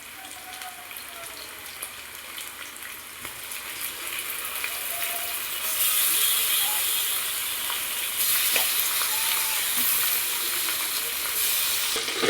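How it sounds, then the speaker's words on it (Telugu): Pieces of regadi (bocha) fish sizzle in hot oil over onions and green chillies browned in the pan, a steady, close hiss that grows louder partway through and holds alone without talk. "మనం చేప ముక్కలు వేసుకోవాలి."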